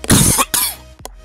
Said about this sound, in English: sorry about the cough, guys